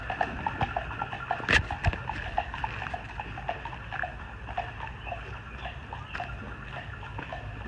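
Horses on a farm in Virginia moving close by, with steady clip-clop hoof steps and faint rustling over a low outdoor background.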